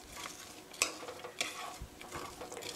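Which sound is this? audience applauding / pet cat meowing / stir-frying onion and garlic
stir-frying onion and garlic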